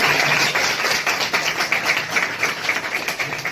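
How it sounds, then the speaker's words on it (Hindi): An audience claps together at a school gathering, producing a dense, steady wash of applause that stays loud and even from start to finish. "एक बार ताली बजा दीजिएगा"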